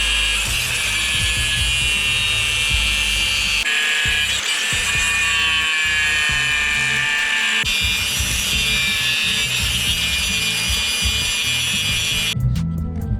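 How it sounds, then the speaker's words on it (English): A power grinder smooths welded seams on a bagged Chevrolet C10 truck body, a loud, steady, whining grind held close for about twelve seconds before cutting off abruptly. "Now I'm gonna go ahead and start grinding all of this smooth"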